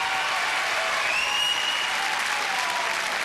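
A crowd at a Gladiators grand final event, 1992, bursts into steady, loud applause mixed with cheering that continues without pause, while a faint whistle-like tone drifts through.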